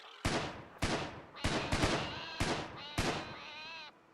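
Rapid bursts of gunfire from colonists shooting in a colony-building video game, a handful of sharp cracks spaced unevenly over a few seconds, loud and close with ringing tails.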